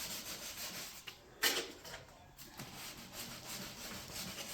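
Quiet, close wet sanding of car primer on a Jaguar X-type with a soapy 600-grit sponge, soft rubbing strokes with a brief louder scuff partway through and no talking.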